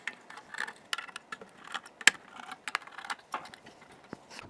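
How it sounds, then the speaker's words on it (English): Phillips screws being undone on the back of an ASRock X300 mini PC, a series of small scattered clicks, ticks and metallic taps from the screwdriver and case, close but quiet with no talk. "there are 4 screws, Phillips screws that you can just unscrew"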